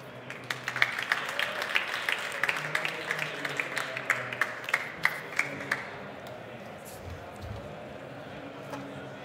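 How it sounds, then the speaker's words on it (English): Audience applause greets four panelists walking onstage at a conference session, a steady wash of clapping for about six seconds that thins out and fades, with faint voices and room murmur underneath. "Please give them the applause and welcome to the stage."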